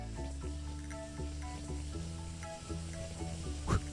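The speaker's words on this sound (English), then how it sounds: "I'm then shallow frying them." Breaded fish pieces shallow fry in oil, giving a faint, steady sizzling hiss close by under a low background hum, with one brief louder splutter near the end.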